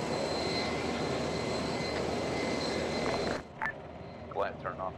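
A military aircraft on approach to runway 36 at a unit training site, a steady broadband engine roar that holds loud and constant, then drops away sharply near the end, leaving faint scattered noises.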